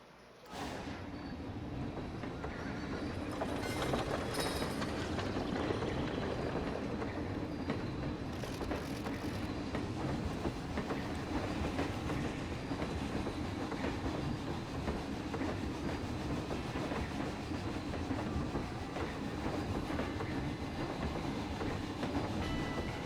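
A small ride-on train rolls through an outdoor park layout, its wheels clicking and rumbling at a steady rate across rail joints with a constant mechanical drone and no talking.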